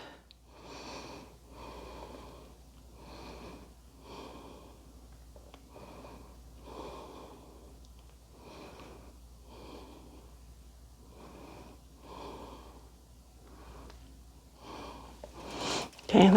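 A person exhales in quick, forceful bursts through the nose and mouth while holding a beginner core exercise, with short sharp breaths repeating at an even rhythm, close and clear in a quiet room.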